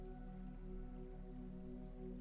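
Rain patters on the open surface of a lake in a brief, even wash of drops over a soft steady hum.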